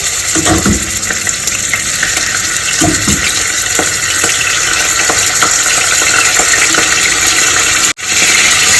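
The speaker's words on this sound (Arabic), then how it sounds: "اول لما الزيت يسخن هبدا ان انا انزل باللحمه" Beef cubes for kebab stew dropped into hot oil, a loud, dense, continuous sizzle and crackle with scattered stirring clacks and a brief dropout near the end, no voices.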